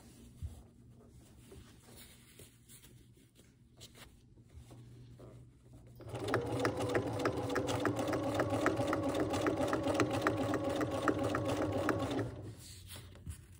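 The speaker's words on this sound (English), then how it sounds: "each sewing machine I've had, like I preferred using different feet" Bernina sewing machine stitching a cloth pad: after a quieter stretch of faint handling noise, a loud, steady rapid stitching whir starts about midway and runs evenly for several seconds before stopping, close to the microphone, with no talking.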